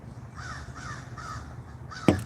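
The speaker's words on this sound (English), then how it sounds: "What up, crows? What are you doing?" Crows caw outdoors in a slow run of three hoarse calls, a little distant, followed by a sharp, loud close sound near the end.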